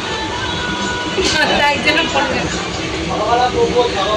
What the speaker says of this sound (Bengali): এই ট্রেন ধরে আমরা রওনা দেবো।